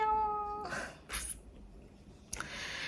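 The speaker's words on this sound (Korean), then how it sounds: "저희 고양이가 저한테 지금 꾹꾹이를 하고 있어서 얘 왜 이러지?" A pet cat gives a short, close meow with a clear pitched tone at the start, followed by soft snuffling and breathy sounds and a brief rustle, with no talking.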